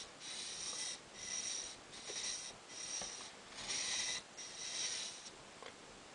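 Narrow Japanese chisel bevel rubbed back and forth on a sharpening stone, six steady hissing strokes with short pauses between them, close and soft, with no talking.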